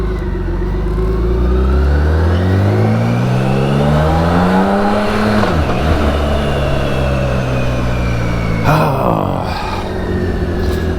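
A BMW K1600 GTL motorcycle on the autobahn pulls hard through the gears, its loud six-cylinder drone rising in pitch, dipping briefly at shifts and climbing again, with steady wind roar underneath.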